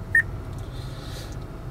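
A single short, clean electronic beep sounds from an Acura's voice recognition system, followed by a quiet cabin hum with no voice.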